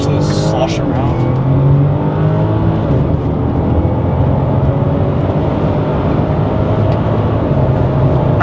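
A 2010 BMW 550i GT accelerating, heard from inside as a steady, smooth engine rise that stays loud and continuous, with a voice briefly speaking at the start.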